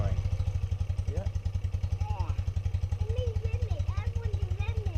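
BMW R80S motorcycle with its boxer twin running steadily close by, a rapid, even low thump throughout and slight rises in pace as the throttle is blipped, with people talking over it.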